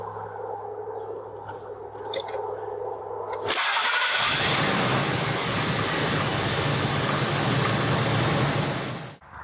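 A car with a discharged battery that has just been boosted cranks briefly over a low hum, then catches and fires into a loud, steady idle close by.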